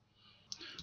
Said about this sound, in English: We double click again.